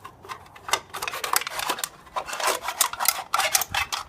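A metal trash can is being cut in half, giving irregular bursts of scraping, clacking metallic cuts that come in quick clusters with short pauses between them, fairly close and moderately loud.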